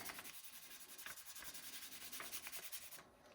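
A polymer clay butterfly is rubbed by hand, a close, soft rhythmic scratching in repeated strokes of steady pace that stops just before the end.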